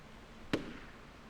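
A single sharp gunshot fires in the video game Shadow of Destiny, one brief crack that stands alone against a quiet, low background.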